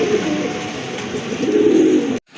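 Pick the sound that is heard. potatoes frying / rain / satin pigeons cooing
satin pigeons cooing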